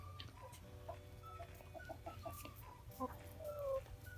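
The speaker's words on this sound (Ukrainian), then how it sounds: "Ось такий півник" A rooster clucks and murmurs softly at close range, with a few short rising calls over a low steady background hum.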